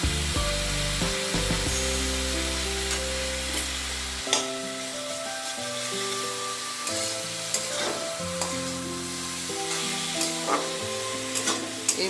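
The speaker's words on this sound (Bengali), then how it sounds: "এই মশলাটা আমি একটু কষাই" Spice masala for a liver chorchori fries in a pan with a continuous, close hiss and sizzle, broken by occasional scraping stirs, while a low steady hum runs underneath.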